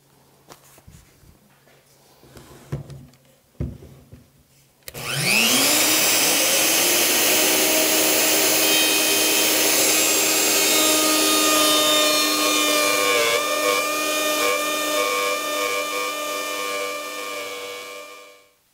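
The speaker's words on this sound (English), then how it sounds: "And just like that, that dado is cut." A power router guided by a jig cuts a dado into a cabinet panel, spinning up sharply after a few handling knocks, then holding a loud, steady whine before winding down.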